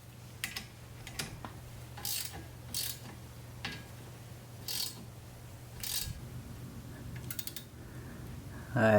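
A ratchet wrench works a brake bolt that keeps spinning without tightening: repeated quiet bursts of clicking pawl ratchets in short irregular strokes, close by over a low hum.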